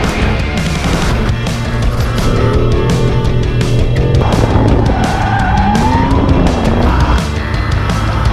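A Porsche 911 GT3 is driven hard around a race circuit, its engine roaring loud and close with rising and falling revs and squealing tires throughout, with no talking.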